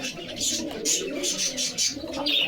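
Pigeons cooing at a pigeon market in Bogura, a steady mix of overlapping coos and chirps from several birds close by, with faint market voices underneath.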